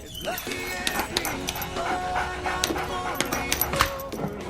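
A dog yips, barks and whimpers in a busy indoor scene, short sharp calls scattered over clattering background noise and other sounds, fairly close and moderately loud.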